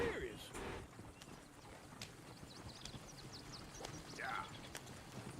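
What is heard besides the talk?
horse hooves from the video game Red Dead Redemption 2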